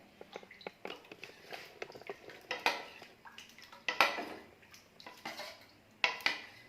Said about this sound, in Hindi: बैटर को तवे पे डालने से पहले अच्छे से हिलाना है